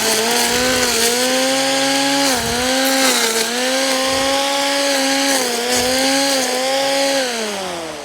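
A strimmer buzzes loudly and close while cutting thick dried weeds in a growing bed, its motor pitch dipping briefly as it bites into the stems, with no talking.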